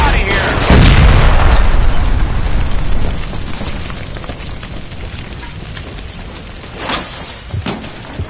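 Gas line explosion in a video game: a loud, close boom followed by a long rumbling, debris-filled decay, with a couple of sharp cracks near the end and voices partly audible.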